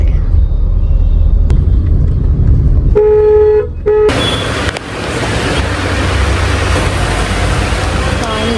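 Road traffic with a car engine rumbling loudly nearby and a short horn toot, then a denser wash of passing vehicle noise and hiss at an evening roadside.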